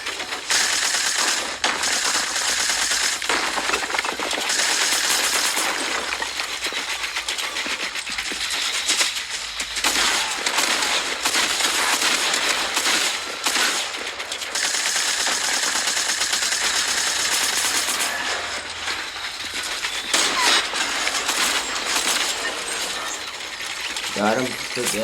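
SMG gunfire in Fortnite with its own loud game sound throughout, dense rattling bursts and mechanical clicking that continue steadily with short breaks, while a player talks over the action.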